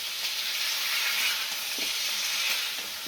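Bottle gourd and prawns sizzle steadily in a hot pan, a continuous broad frying hiss with a few soft stirring scrapes, close and fairly loud, no voices.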